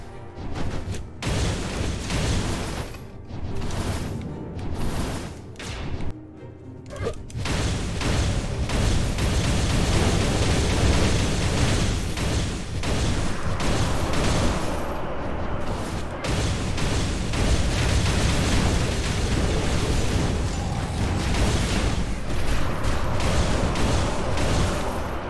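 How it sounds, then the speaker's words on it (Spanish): A mana explosion skill from the game Skul bursts out as a loud, dense blast of booming, crackling effects that keeps roaring continuously for more than twenty seconds. "Una explosión de maná"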